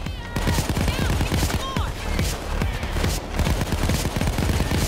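Gunfire from the Payday 2 video game empties a whole magazine in dense, rapid, loud bursts that run almost without a break, pausing only briefly twice.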